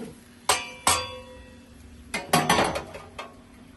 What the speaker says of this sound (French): Et je remets ma poêle au feu.